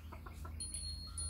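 A rooster that cannot crow properly gives a few short, strained clucking calls in quick succession, followed by thin high-pitched tones, faint against a low steady background hum.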